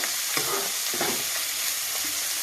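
Grated raw mango frying in hot oil for mango pulihora, a steady soft sizzle with a few brief stirring scrapes, close and continuous with no talking.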